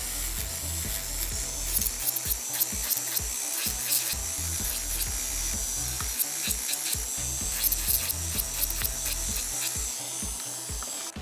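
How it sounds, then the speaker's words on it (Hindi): Electric nail drill buffing and filing natural nails, a faint steady whir broken by repeated short rasping strokes in an uneven rhythm, with no talking. "ड्रिल के साथ काम करते हुए थोड़ी एहतियात से काम करना होगा आपको"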